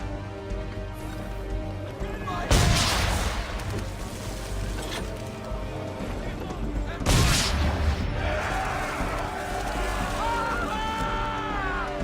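Swivel guns fire at old powder barrels in a naval video game, two loud blasts with explosive bursts about five seconds apart over a steady ship ambience and background music.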